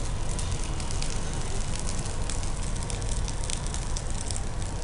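Gongura fried egg rice sizzles steadily in a pan, a dense, continuous crackling fry with no pauses and no voices.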